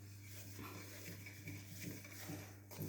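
Flapjack cookie dough being mixed in a bowl with a spoon, giving soft, faint scraping and clinking strokes at an irregular rhythm over a steady low hum.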